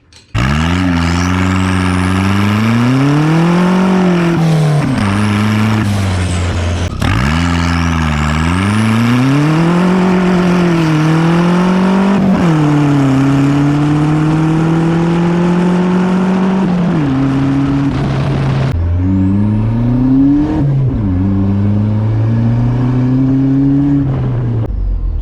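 A turbocharged Nissan D21 pickup with a custom stainless tractor-flap exhaust revs repeatedly up and down close by, each rise followed by a settling idle, loud and continuous throughout.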